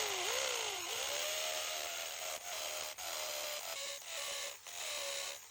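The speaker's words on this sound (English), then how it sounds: "We'll start this repair by drilling some pilot holes in the concrete for some rebar." A drill bores pilot holes into a concrete patio for rebar, producing a continuous loud whining grind with a shifting pitch and several brief dips where the bit eases off or is repositioned.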